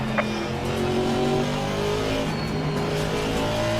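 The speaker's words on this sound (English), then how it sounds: "Faster cars approaching." GT4 race cars in a racing video game at Barcelona roar past with a steady loud engine drone and shifting pitches as faster cars close in from behind, with no talking.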